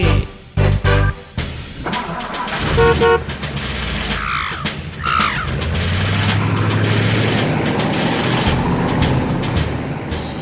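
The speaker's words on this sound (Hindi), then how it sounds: "है एक भोंपू मेरी गाड़ी में जो पॉपो करके बजे" A cartoonish car horn in a Hindi children's nursery rhyme, several short bright honks near the start followed by sung music and playful effects, loud and up front.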